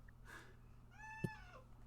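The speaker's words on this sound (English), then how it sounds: "Whose cat is that?" A pet cat gives a single clear meow, moderately faint and rising over a steady low room hum, with a soft earlier chirp and no talking.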